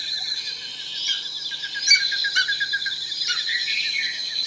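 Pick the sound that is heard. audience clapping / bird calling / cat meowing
bird calling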